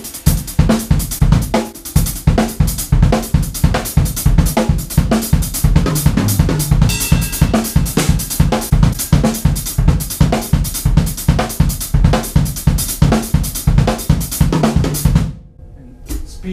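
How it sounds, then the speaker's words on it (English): A full drum kit plays a steady, driving kick drum pattern with a backbeat added, loud and continuous with no talking, then stopping abruptly near the end. "you can add a backbeat to this, so you can actually groove"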